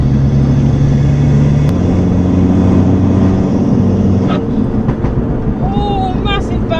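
A modified Abarth car engine drones loudly at speed while overtaking, then a crackle of exhaust pops and bangs breaks out as the throttle lifts, with brief whining noises after.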